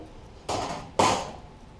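A sheet-metal tool box tray edge is folded and flattened along a quarter-inch line: two sharp, close metallic thumps about half a second apart, each trailing off briefly.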